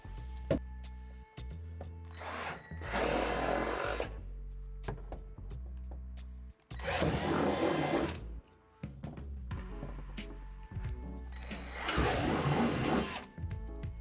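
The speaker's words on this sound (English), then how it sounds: "there are 3 divots that you need to drill out in the deck panel" Power drill boring out three divots in a plastic deck panel of a Lifetime Adventure Tower playset: three separate loud bursts of drilling, each a few seconds long, broken by quieter handling noises and hum.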